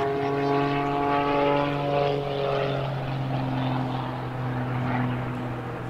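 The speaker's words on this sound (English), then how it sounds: "That very, very light little airplane." A very light aerobatic propeller airplane of over 300 horsepower flies at an airshow, its engine drone steady and fairly near with a slowly shifting pitch as it passes.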